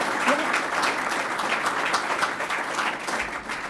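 An audience at a community meeting claps in a dense, steady round of applause, moderately loud and fairly close, lasting a few seconds with no talk over it.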